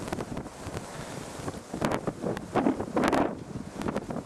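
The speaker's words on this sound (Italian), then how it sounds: "Proprio ora si alza il vento, un classico." Gusty wind buffets the microphone at the Cucao dunes in Chiloé National Park, rising into stronger rushing bursts toward the end, with a broad roar and no voices.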